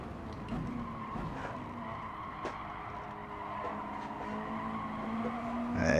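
A Mazda MX-5 touring race car in a racing game brakes hard at Dragon Trail, tyres squealing and skidding in a long, steady screech over the engine drone, ending with a brief rise in noise; no talk is heard.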